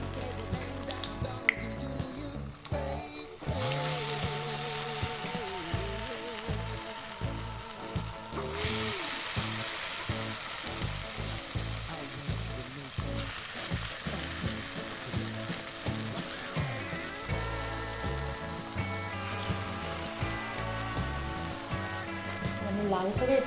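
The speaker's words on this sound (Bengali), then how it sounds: "তো আমার দেখুন তেলটা গরম হয়ে গিয়েছে। এখন আমি পাউরুটিগুলো এখানে এক এক করে দিয়ে দেবো," Gram flour battered bread pieces frying in hot oil for round bread pakoda give a loud, steady sizzle close up that runs the whole time, with faint tonal sounds in the background.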